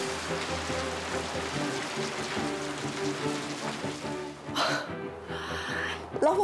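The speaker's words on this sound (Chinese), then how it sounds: "老板一走就下大雨" Heavy rain pours steadily outside a bakery shop, a dense continuous hiss under people speaking, with a few sharp breathy sounds near the end.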